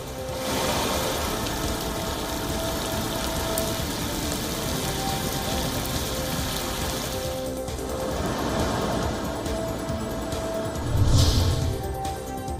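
Dense, steady rainfall hisses without letup, with a brief heavier splash near the end.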